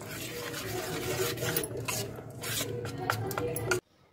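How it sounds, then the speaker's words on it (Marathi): Thick rice flour batter being mixed by hand with tempering, producing continuous wet squishing and stirring strokes up close that stop abruptly near the end. "पीठ आपलं छान मिक्स करून घ्यायचंय"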